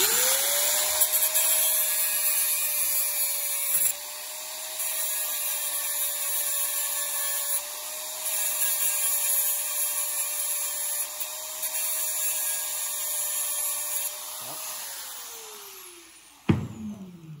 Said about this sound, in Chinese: 我会干脆把这个本来不想要磨这边也把它磨掉啊